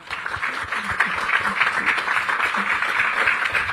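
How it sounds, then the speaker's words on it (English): Audience applause at a panel event in Jamaica, a steady wash of many hands clapping through the whole stretch, fairly loud and even, with a few faint voices underneath. "Applause, please"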